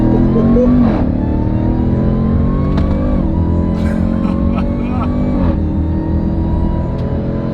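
A 2018 Jeep Trackhawk SUV launches and accelerates hard, its engine climbing through rising revs with brief dips at gear changes, loud and close while people talk over it.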